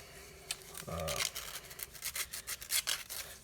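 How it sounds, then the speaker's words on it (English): Sandpaper of 180 grit rubs lightly around the edges of a handmade coin ring, giving a series of short, close, raspy scraping strokes in an uneven rhythm. "just lightly going around the edges, trying to take any burrs off like that, off the inside"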